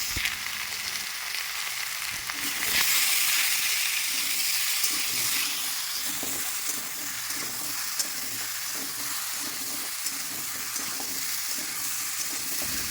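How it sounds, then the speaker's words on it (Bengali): Raw pumpkin frying in a pan with turmeric and salt, a steady close sizzle and hiss running throughout, with faint stirring scrapes, no voices. "একটু সময় নিয়ে কুমড়োটা ভালো করে ভেজে নেব"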